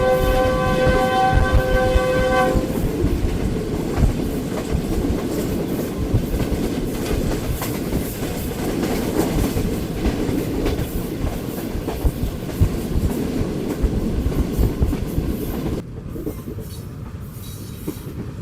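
Green Line express passenger train in Pakistan running on rails, a loud continuous rumble and clatter of wheels close by, with a sustained horn tone at the start and the noise dropping slightly near the end.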